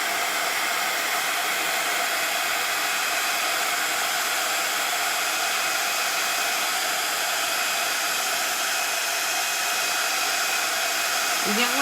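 A heat tool blows continuously while drying paint on a Halloween sign, a steady loud whooshing hiss with a constant motor hum, heard up close with no talk.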